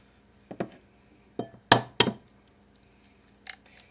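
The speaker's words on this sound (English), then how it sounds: "Let's get them all cracked up into this bowl here." Thick-shelled eggs cracked against the rim of a bowl, several sharp taps and cracks at irregular intervals, close and crisp in a quiet room.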